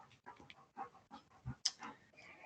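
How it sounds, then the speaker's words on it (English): A dog sitting close by pants heavily, producing quick, rhythmic, breathy puffs that repeat steadily across the moment, fairly near and soft, with no talking. "if you do hear panting in the background, my dog decided to sit right next to me, and he's a heavy breather"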